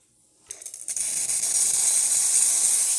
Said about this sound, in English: And I want to test also the steamer.